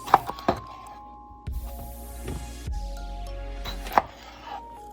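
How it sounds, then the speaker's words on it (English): A few sharp knife chops halving tomatoes on a cutting board, with a ringing resonance and quiet handling sounds between the cuts. "we're just gonna cut them in half, simple"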